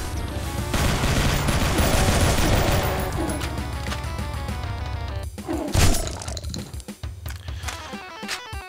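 Rapid, dense gunfire and explosions from the video game Doom II pound continuously and loudly, mixed with game music. The bursts become sparser near the end, with no speech.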